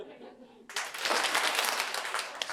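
A crowd of people clap their hands during a throw-and-catch exercise: after a quiet moment a dense, sustained burst of many overlapping claps rings out fairly close for about two seconds.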